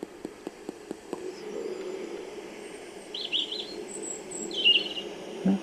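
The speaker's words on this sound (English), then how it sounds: "Near the birds." Birds chirping in the distance, a few faint, brief high calls over a quiet outdoor background hiss, with some soft taps at the start and no talk.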